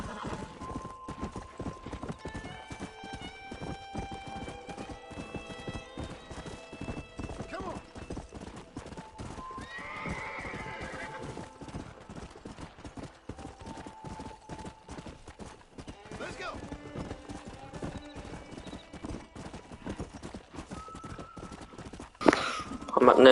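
Steady clip-clop of horse hooves throughout, with a horse neighing partway through, from the video game Red Dead Redemption, while a person talks over the sounds in German.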